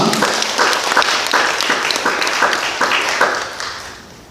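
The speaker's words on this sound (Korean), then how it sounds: "우리 한번 박수 한번 해주시면 감사하겠습니다" A church congregation claps together in steady applause during a morning service, dense and continuous, tapering off toward the end.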